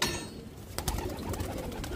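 Domestic pigeons kept by a fancier coo softly in a short, faint burst of low murmuring calls, with no voices over them.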